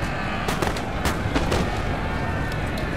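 Musket volley from Swiss infantry firing at cavalry from a forest in Napoleon Total War, a ragged burst of several sharp distant shots over a noisy battlefield backdrop.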